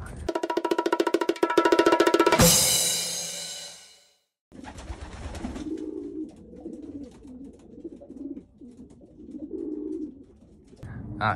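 Pigeon hens in a loft aviary coo in repeated soft, rolling calls at close range, with a sharp clattering burst early on and someone talking intermittently over the birds.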